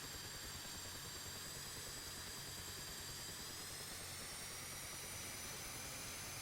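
F-5E jet engine spooling up in the DCS flight simulator game, a steady, dense whine and roar with a rising high-pitched tone, continuous and even throughout, with no voices.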